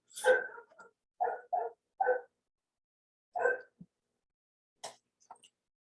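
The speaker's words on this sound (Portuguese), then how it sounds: "E a Luna está latindo aqui." A dog barks in short bursts indoors, several sharp barks spaced apart followed by a few soft whimpers and yips, fairly close and otherwise quiet between.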